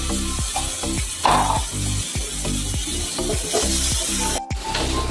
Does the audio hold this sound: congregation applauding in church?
no